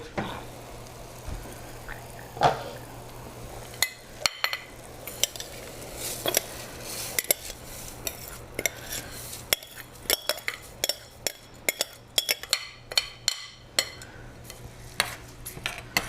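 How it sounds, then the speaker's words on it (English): Rice being stirred in a pot with olive oil in a home kitchen, a spoon scraping and clinking against the pot in irregular bursts over a low steady hum, with no talk. "Stir it a little bit so that olive oil gets incorporated with the rice"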